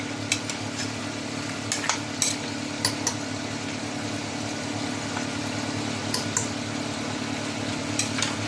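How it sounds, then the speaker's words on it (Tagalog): Food is stirred in a sizzling pan for a home-cooked birthday meal, with steady frying hiss underneath and repeated sharp scrapes and clinks of a utensil against the pan at irregular intervals. "Haluhaluin lang natin guys."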